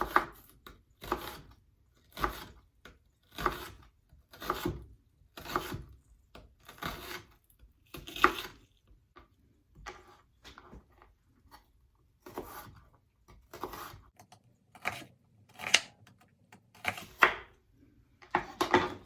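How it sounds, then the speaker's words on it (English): Knife slicing through a whole onion on a cutting board, a steady series of crisp, regular chops close by with no talking. "And I'm going to cut them this way."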